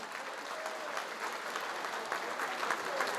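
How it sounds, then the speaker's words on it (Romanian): Wedding guests applaud during the couple's first dance, a steady wash of clapping held at an even level throughout, with faint voices underneath. "Aplauze, vă rog frumos încă o dată și toată lumea"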